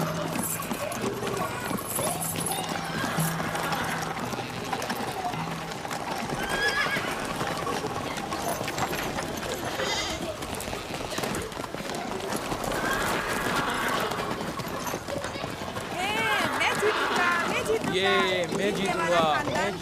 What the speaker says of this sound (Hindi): मेरा घोड़ा ले जाओ।